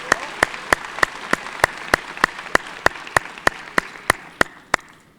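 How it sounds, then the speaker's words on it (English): Sharp, evenly spaced claps ring out at a luncheon in a steady rhythm over a soft crowd wash, fading slightly toward the end. "let's give all three of our sponsors a round of applause"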